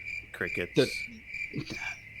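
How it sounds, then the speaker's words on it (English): A steady cricket chirp trill runs through the whole short stretch as a comic sound effect, with a few other noises and voices over it. "Crickets."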